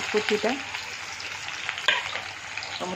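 Chopped onions sizzle steadily in a pan with panch phoron, a close, continuous frying hiss broken by a few scraping stirs and one sharper clatter near the end.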